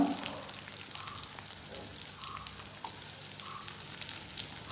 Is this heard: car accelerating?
no